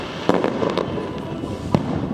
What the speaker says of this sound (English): Unfortunately, the fireworks did not start until after we got off.